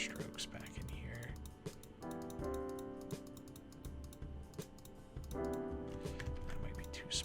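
Computer keyboard tapped intermittently during digital painting, scattered light clicks under a steady background tone with faint speech-like murmurs.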